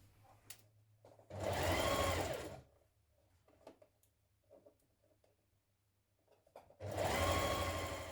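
Sewing machine stitching a yoke seam on a Burda 6322 vest or blouse, two loud continuous whirring runs of stitching separated by quiet ticks and handling clicks, close up with no talk.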